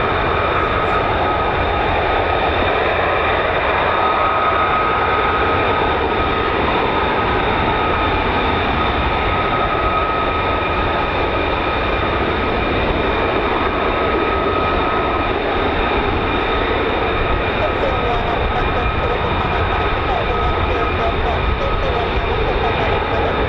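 USAF F-15 or F-35 fighter jet taking off in a quick climb at RAF Lakenheath, heard as a loud, continuous, steady engine roar with whining tones throughout, no distinct pauses.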